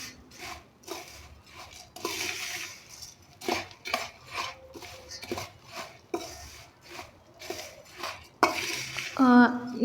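Roasted peanuts and dal being stirred in oil in a pan for bhadang, a spoon scraping and clinking against the metal in repeated irregular strokes, close and fairly quiet.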